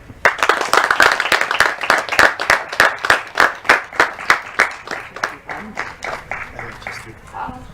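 Applause at a school graduation ceremony where diplomas are handed out. A crowd claps with a strongly pulsing, rhythmic beat, loud and close, and the sound fades gradually toward the end.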